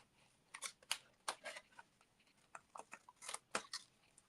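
Paper snipped with scissors along a straight edge while piecing a tessellating pattern, giving a quiet run of short, crisp cuts that come in irregular bursts.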